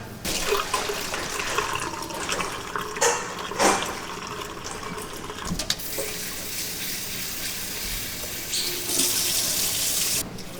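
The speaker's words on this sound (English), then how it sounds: "I'm going to drain them in the sink and then rinse it with cold water to stop the cooking and to cool them off" Tap water runs into a sink as cooked grains are drained and rinsed with cold water, a steady splashing rush with intermittent clatters and surges, close and alone without speech.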